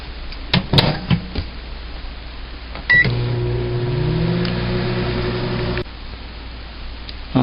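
A microwave oven heats a mug of apple pie brandy moonshine with spices: a few button clicks, then a steady close hum for about three seconds that cuts off, followed by quieter room noise.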